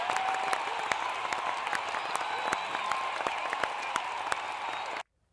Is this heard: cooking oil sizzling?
no